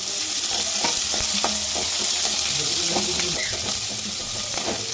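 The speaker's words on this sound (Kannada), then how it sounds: "ಈಗ ನೋಡಿ, ಈರುಳ್ಳಿ ಹಾಕ್ತೀನಿ" Onions hit a hot tempering of curry leaves and green chillies in a pan, giving a loud, continuous sizzle broken by the scraping knocks of a stirring spoon.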